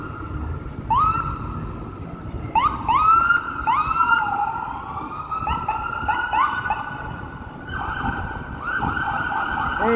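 Ambulance and police car sirens wail and yelp together, rising and falling in quick sweeps over downtown Toronto rush-hour traffic, fairly close and loud.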